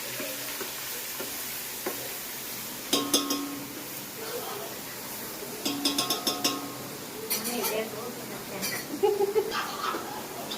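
Ginger, green chili and garlic fry in a large hot pot, a continuous sizzle broken by repeated metallic clinks and stirring scrapes of a spoon against the vessel, with a voice talking over it.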